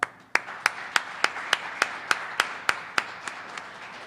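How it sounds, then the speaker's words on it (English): Slow, evenly spaced claps ring out about three times a second in a morning gathering thanking trustees, crisp distinct hits over a faint bed of wider applause, tapering a little at the close. "I want to give them a round of applause and thank them for their time"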